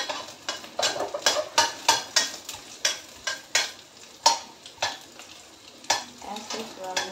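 Garlic stirred in a hot frying pan sizzles under a rapid, rhythmic series of spatula scrapes and clacks against the pan. The strokes are close and loud and repeat steadily throughout.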